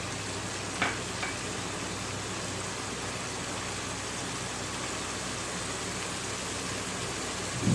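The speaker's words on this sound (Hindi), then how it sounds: "मसाला हमारा भुन गया है, अब हम इसमें ऐड करेंगे ये साबुत गरम मसाला" Steady, close hiss of whole garam masala sizzling in hot oil as it is added to the frying masala for aloo gobi salan, with a couple of faint clinks of a utensil.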